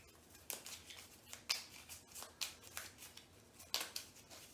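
Board game cards for Gugong are shuffled by hand in a series of crisp, riffling bursts at a steady pace, close and alone without talk.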